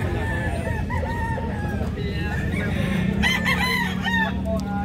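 At a pet market, a Pumpkin Hatch Henny rooster crows several times, clear and fairly close, over a murmur of background noise from the market.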